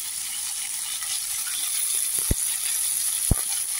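Beans and mixed winter vegetables with turmeric fry in a pan, giving a steady bright sizzle with two sharp knocks of a utensil against the pan.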